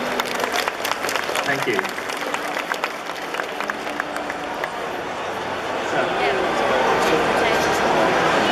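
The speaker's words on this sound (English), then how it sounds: "Can we have a clap for Zach, please?" Audience applause for Zach at a karate club demo during a convention, a thick continuous clapping that swells louder toward the end, with crowd chatter and a brief voice.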